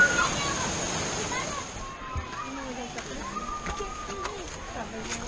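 A small waterfall in Ein Gedi National Park splashes with a steady, fairly quiet rush of falling water, and faint voices and other tonal sounds drift over it.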